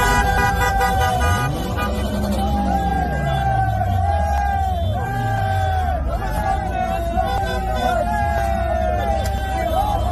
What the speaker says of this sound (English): caught video of young men cheering, waving flags, and honking in support of the Hamas-led terrorism attack on Israel